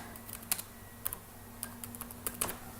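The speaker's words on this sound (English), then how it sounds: "we could type in a little bit of text" A computer keyboard is typed on in short, sparse bursts of light clicks, scattered irregularly across a few seconds, faint and close with no talking and a low steady hum beneath.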